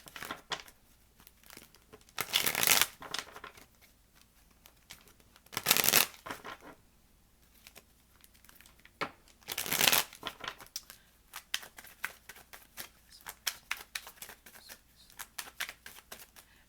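Tarot cards shuffled by hand, with three loud riffling bursts spaced a few seconds apart and softer scattered card slaps and rustles in between, close and alone.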